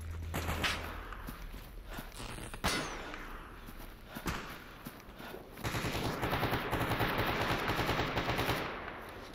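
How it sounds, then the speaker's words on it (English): Sustained automatic gunfire in the modded STALKER Anomaly video game, bursts of rapid shots with sharp single cracks early, then dense continuous fire through the second half, fairly loud and close. "Okay, they're shooting my guy, I think."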